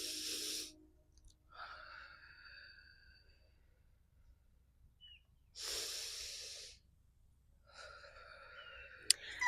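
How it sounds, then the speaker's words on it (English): Deep breaths taken for a calming grounding exercise: a soft airy breath at the start and a second, longer one midway, close and unhurried, with quiet stretches and faint murmurs between them. "let's take a deep breath"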